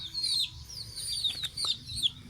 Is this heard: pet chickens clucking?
yes